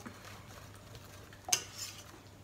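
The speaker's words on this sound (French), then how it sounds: "On mélange de nouveau." Spoon stirring grated carrots into a tuna loaf mixture, a faint soft scraping and squelching with one sharper clink partway through, no voices.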